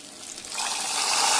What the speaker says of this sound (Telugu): మన పోపుని టమాటా చారులో వేసేసుకోవడమే